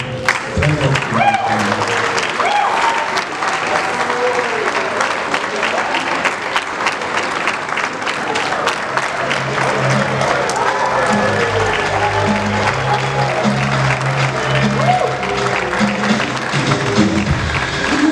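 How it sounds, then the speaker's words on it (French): A Rotary International district gathering breaks into loud, sustained applause from a large audience, dense continuous clapping lasting many seconds with some voices faintly mixed underneath. "Chers amis, applaudissez très fortement."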